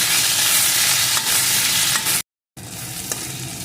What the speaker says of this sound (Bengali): এখন আদাটাকেও একটু ভেজে নেব